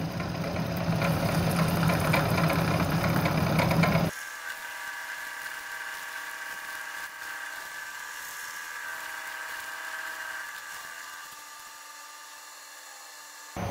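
A K&T 2D mill makes a heavy cut in 304 stainless steel, a dense grinding roar that drops abruptly after a few seconds to a quieter steady machine whine and hum.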